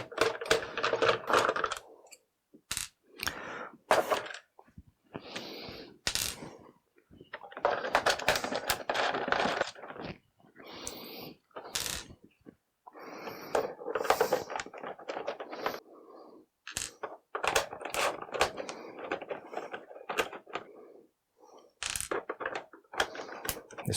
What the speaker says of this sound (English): so we'll just try undoing the outer ones first, and then only do the 4 inner ones if we need to